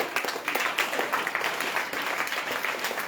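Audience applause for a student named Aryan Gowda at a student camp interaction session, a dense steady patter of many hands clapping with no pause across the whole stretch.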